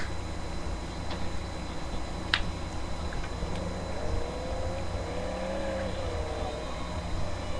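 Car engine from The Godfather video game drones steadily while driving through city streets, a continuous mid-level hum with a slight rise and passing swell near the middle, no talking.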